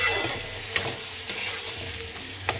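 Food frying in a pan, a continuous close sizzle broken by a few sharp clicks of a utensil stirring and scraping, with no talk.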